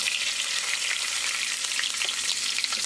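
Cumin seeds sizzle in hot olive oil, a dense, continuous crackling hiss that stays loud and close without any pause.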